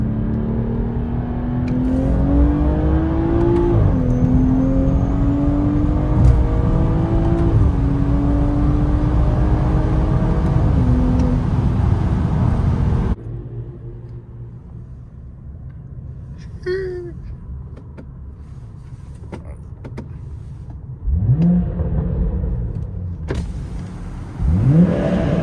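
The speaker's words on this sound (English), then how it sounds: "Finally taking it on a spin." A BMW F30 sedan drives with a steady engine drone and tonal whine that rises and falls through gear changes, then drops to a quieter idle before pulling away again.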